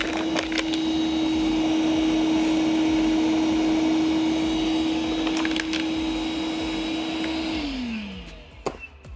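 A Milwaukee M12 Fuel 1.6-gallon cordless wet/dry vacuum runs on low speed with a steady, close, loud whine and rushing airflow, then winds down near the end as it shuts off, with a few clicks and rattles of debris.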